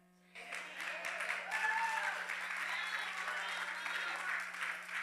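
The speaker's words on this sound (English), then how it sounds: "See, my millennials are clapping right here." A church congregation clapping during a sermon, a sudden burst of steady applause that stays loud for several seconds, with voices calling out over it.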